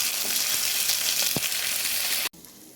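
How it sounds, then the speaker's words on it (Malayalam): Boiled chicken, cooked with pepper, turmeric and salt, fries in a pan with a loud, even sizzle and one dull knock midway. The sizzle then cuts off abruptly to a much quieter tail. "അതിനായി ആദ്യം നമുക്ക് ചിക്കൻ ഒന്ന് പാനിലോട്ടിട്ടൊന്ന് നമുക്കൊന്ന് ഫ്രൈ ചെയ്തെടുക്കാം"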